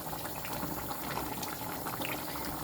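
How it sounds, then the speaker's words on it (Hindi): A pot of water at a rolling boil for pasta gives dense, continuous bubbling and churning, close and steady, with no voices. "पानी हमारा उबल रहा है, अब उसमें पास्ता डाल देंगे।"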